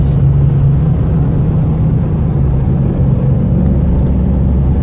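A car engine purrs steadily at a constant low rumble throughout, a continuous near drone with no talk, heard while cruising on an American-car road trip.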